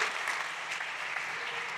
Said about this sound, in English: Big applause to Marina